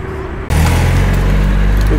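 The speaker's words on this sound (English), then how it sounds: "There goes a lovely Nissan 200SX, which is the Silvia, of course." A Nissan 200SX (Silvia) pulls away from a car meet in Tempe, its engine swelling suddenly into a loud, close, sustained drone with a steady low rumble and outdoor crowd noise behind.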